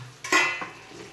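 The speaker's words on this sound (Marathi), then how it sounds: "आता चांगलं हलवते" Stuffed capsicum being stirred in a pan, a short scrape of a utensil against metal with a clink, over a faint background sizzle.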